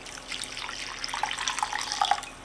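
Warm water from a cup pours into a mixing bowl holding active dry yeast for pizza dough, a steady splashing trickle with small drips near the end, close and fairly quiet, with no talking.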